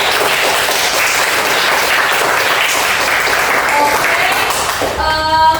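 A classroom of students claps for a presenting group in a teaching practice lesson, loud dense applause running steadily throughout before tapering at the end, with a voice briefly audible.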